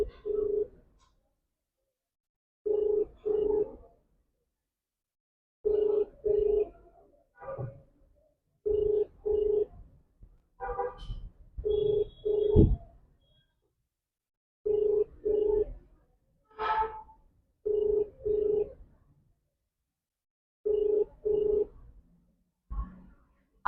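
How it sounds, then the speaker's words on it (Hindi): Outgoing phone call ringing back in a repeated pattern of paired rings with pauses between them, clear and steady over about two dozen seconds, with a few short beeps and tones between the rings. "कॉल कर रहा हूँ अभी।"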